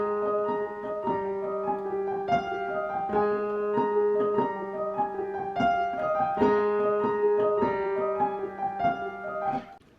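A piano lick played in the higher register, repeating short melodic figures over sustained lower notes at a moderate pace, soft and alone for ten seconds.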